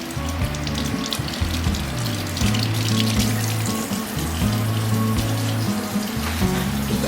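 Tap water running steadily into a kitchen sink as raw chicken thighs are rinsed under it, a close, continuous splashing with shifting gurgles as the pieces are moved about.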